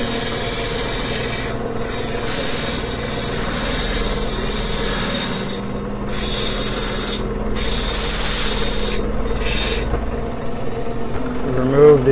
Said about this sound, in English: So now we'll grind on the other side.